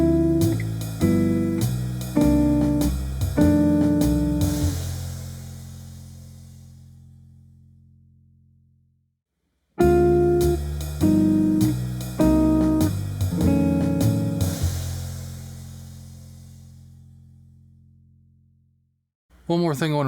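Clean jazz guitar plays two passes of a minor ii-V chord sequence stepping down by whole steps, half-diminished chords to dominant sevenths. Each pass has plucked chords that ring out and fade to silence before the next begins.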